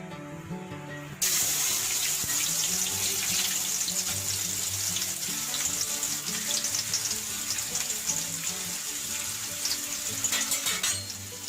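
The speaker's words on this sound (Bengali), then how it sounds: "আমি এখন দিয়ে দিচ্ছি পেঁয়াজ কুচি।" Chopped onion drops into a pan of hot oil and a spoon of ghee, bursting into a loud, steady crackling sizzle that runs unbroken and close for several seconds, with no talk.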